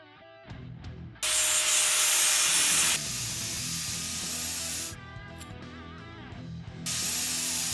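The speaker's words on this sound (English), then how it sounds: "Let's just start grinding." Angle grinder cutting into a 16mm steel stud to make a homemade internal throttle slider, a loud, steady harsh hiss that starts after a second, dips briefly around the middle, then returns strong, with no talking.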